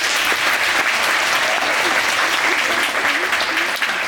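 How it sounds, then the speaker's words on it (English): An audience of high school freshmen gives a warm round of applause, steady and loud, with faint voices mixed into the clapping. "So give Taylor a warm round of applause."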